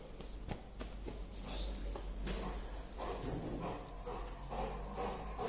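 A dog whimpers and gives short yips amid shuffling movement and a low background hum, heard at moderate distance and fairly faint.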